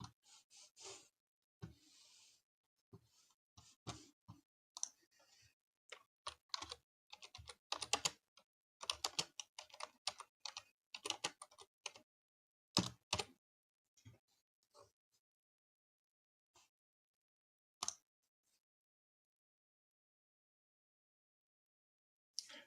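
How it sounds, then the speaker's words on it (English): Typing on a computer keyboard, heard as close, clicky keystrokes in irregular bursts with short pauses, thinning out toward the end before a long quiet stretch. "Type that in."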